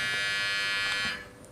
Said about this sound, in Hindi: तो लाइट 3 बार ब्लिंक होने के बाद ऑटोमेटिकली आपका ट्रिमर कुछ चलने लगेगा।